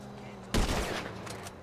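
Gunfire in GTA 5 Online breaks out suddenly as a loud, close burst of rapid shots, then settles into a rattling wash that lingers to the end over steady background game noise.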